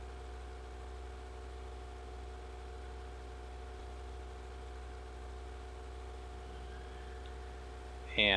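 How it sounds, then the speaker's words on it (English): Steady mechanical drone of a grinder processing Certus quartz in modded Minecraft, driven by a running gasoline engine. The hum holds constant throughout, with a brief louder burst at the very end. "Grinder starts working, processing Certus quartz."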